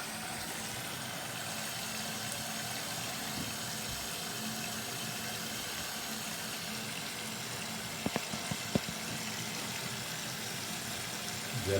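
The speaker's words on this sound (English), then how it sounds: "And when you want to start to use your sprayer" A mini shower bidet sprayer sprays water in a steady, even hiss that runs throughout, with a few brief clicks near the end.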